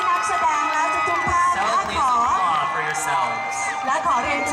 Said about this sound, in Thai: ขอเสียงปรบมือให้นักแสดงและทุกๆท่าน